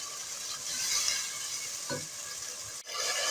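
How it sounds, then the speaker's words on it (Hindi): Masala of garlic, ginger and tomato paste sizzles steadily in oil in a pan, a continuous close frying hiss with a brief scrape of stirring partway through. "ये देखिए यहाँ पे खूब अच्छी तरह से मसाला भून रहा है"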